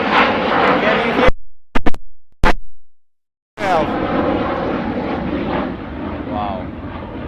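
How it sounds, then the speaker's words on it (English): An airplane at an airfield roars past, loud and close, with a broad engine rush interrupted by brief cuts of silence, then returning steady and strong; people talk over it. "we have a flight of the plane. Oh, it's really loud."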